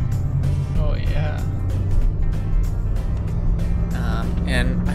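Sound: RAM 1500 pickup truck accelerating, gears shifting, tow/haul mode off

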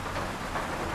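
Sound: rain falling in the video game Icarus

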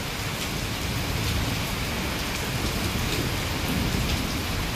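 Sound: torrential rain with small hail

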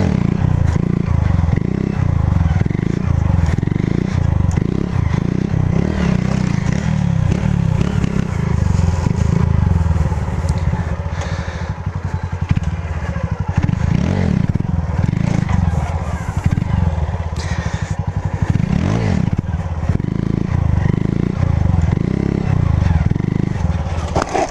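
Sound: Honda Fan 150 motorcycle ridden by a learner

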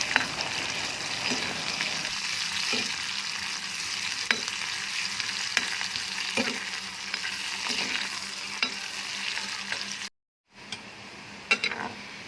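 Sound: sliced onion rings frying and being stirred in pan

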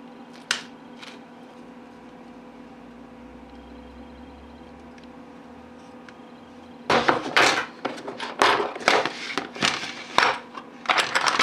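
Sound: cutting a thread with a rusty M2 tap

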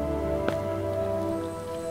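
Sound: rain falling in Starbound video game

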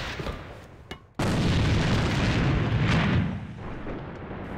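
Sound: grenade explosion in a video game

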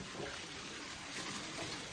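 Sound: water being poured from a glass into a cooking pot

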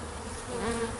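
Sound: robber bees buzzing outside a hive

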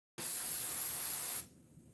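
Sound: airbrush spraying contact cement

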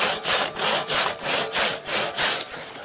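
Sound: saw cutting wood

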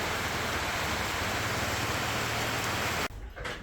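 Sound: rain falling

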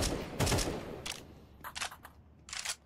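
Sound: automatic gunfire in a video game

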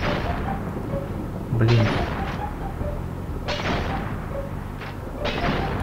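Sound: explosions in the video game Crash Bandicoot

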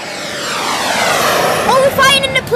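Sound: aeroplane engine sound in a video game

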